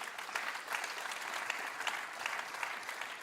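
Steady applause from a church congregation at a Sunday service, a dense even wash of many hands clapping, moderately distant, with no voices over it.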